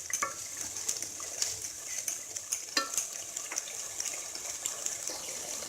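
Chicken masala for murgh musallam sizzling and roasting in a pan while being stirred, with bright frying hiss and scattered scraping strokes, close and steady, no voices.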